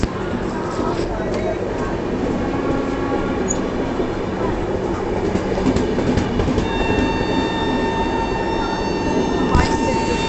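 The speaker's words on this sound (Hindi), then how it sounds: "दोस्तों हमारी योगा एक्सप्रेस का भी डिपार्चर सिग्नल हो चुका है, डिपार्चर होंगे।" The Yoga Express passenger train, running between Ahmedabad and Delhi, rolls along the rails with a continuous loud rumble, clicking wheels and thin squealing tones, while a voice is faintly heard beneath it.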